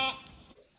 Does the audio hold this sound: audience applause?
no